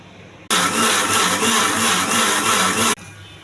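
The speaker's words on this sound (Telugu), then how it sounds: "ఇవన్నీ మిక్సీ చేసుకోవాలండి" Mixer grinder blending onions, mustard seeds, cumin and tomato for a fish pulusu, a loud steady whirring roar that cuts in abruptly, runs about two and a half seconds with slight pulsing, then stops.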